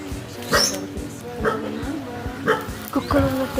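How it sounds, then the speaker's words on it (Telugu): Several dogs barking and yipping in short repeated bursts, near and loud, with people talking underneath. "కుక్కలు ఉన్నట్టుంది."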